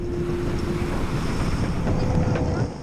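A boat racing at full speed, a loud steady roar of engine, wind buffeting and rushing water, continuous and close, easing slightly at the end.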